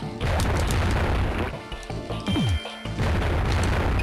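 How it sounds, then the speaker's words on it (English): Video game explosions in Donkey Kong Country 3 go off as loud, booming blasts with crashing bursts and a brief falling whistle in the middle, continuous and dense throughout. "Man, those explosions."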